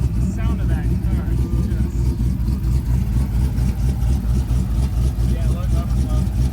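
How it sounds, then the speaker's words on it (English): A 2014 Jeep Grand Cherokee engine runs steadily with a deep, continuous low rumble, close by, while people talk faintly over it. "The sound of that car."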